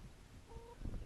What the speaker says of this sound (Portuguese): E ali está o meu galo.